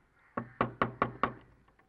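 Someone knocks on a door: five sharp, evenly spaced raps, close and fairly loud, followed by two fainter taps.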